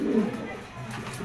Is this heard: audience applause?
no